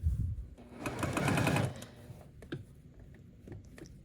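A sewing machine stitches a star quilt block in one short, close burst of rapid needle chatter. It is followed by a few soft clicks and handling noises.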